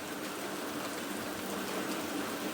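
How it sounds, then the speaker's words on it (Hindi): Heavy monsoon rain with big fat drops pours steadily in a hill village, a dense, loud, unbroken hiss with no voices. "ये देख सकते हैं बारिश, और वो भी मोटे मोटे बूंद वाली हो रही है"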